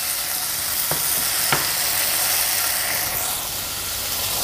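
Fish frying in a pan with leftover marinade of ginger, garlic, chili powder, turmeric, garam masala, oil and lemon juice, giving a steady loud hiss and sizzle throughout with a couple of faint clicks and no talking.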